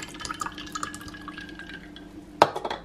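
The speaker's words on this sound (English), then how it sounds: "I'm just gonna pour myself a glass of iced latte." Iced latte poured into a glass makes soft trickling and dripping, followed by a sharp clink of glass and a few small knocks near the end.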